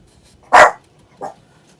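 Two close barks from a dog: a loud, full first bark followed by a shorter, quieter second one, with near silence around them.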